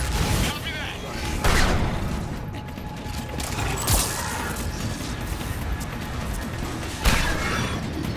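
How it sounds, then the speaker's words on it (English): Cover fire in Mass Effect 3 combat: loud bursts of gunfire and mechanical clatter, with sharp impacts at intervals over dense battle noise, mixed with voices talking. "Give us some cover fire!"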